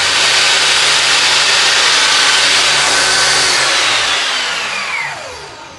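Mollar TS1600 10-inch table saw with its motor running, a loud, steady, close-up whine and roar that starts to wind down near the end.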